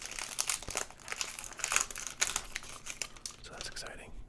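Old sports card packs being torn open and handled up close, with dense crinkling and crackling of wrapper foil and paper, sharp rustles throughout and a few tearing bursts.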